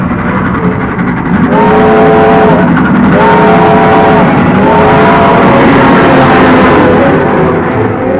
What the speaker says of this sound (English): Beat that train to the crossing.